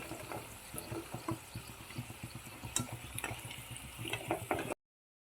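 Cauliflower pieces for gobi manchurian deep-frying in hot oil over a medium flame, a steady bubbling sizzle broken by clattering stirs and scoops of a ladle against the pan.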